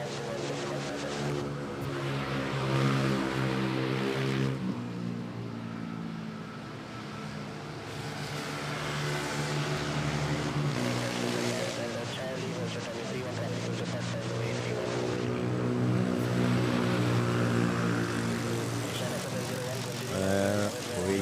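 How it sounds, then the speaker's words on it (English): An Asiana Airbus A330 touches down at Manila Airport, its jet engine roar swelling and fading in long waves, with a voice talking over it. "Asiana A330 butter machine touching down."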